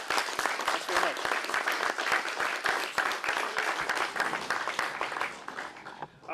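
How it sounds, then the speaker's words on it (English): An audience at a talk on synthesizers and sound technology applauds steadily for several seconds, a dense wash of clapping that fades toward the end. "Let's give him a round of applause."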